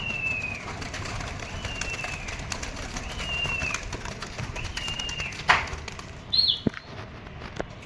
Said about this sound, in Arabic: طبعا فتح الحمام اهو بسم الله ما شاء الله